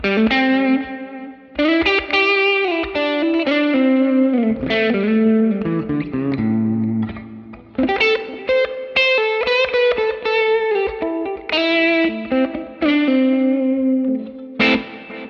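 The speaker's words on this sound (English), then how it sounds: "Hit the switch again, the delay goes on, and I get the bigger reverb." An electric guitar played through a Line 6 Helix with delay and a larger reverb rings out in clear chords and melodic notes, with phrases separated by short pauses and trails of effect, loud and alone without speech.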